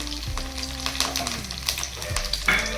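Curry leaves and chopped green chili hit hot oil in a pan for dry toor dal, giving a close, steady frying sizzle with a few soft stirring clicks and no talk.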